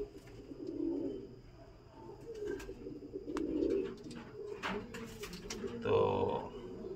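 A young pigeon at a pigeon shelter coos in soft, low, repeated phrases. The coos sit close against a faint murmur of background activity.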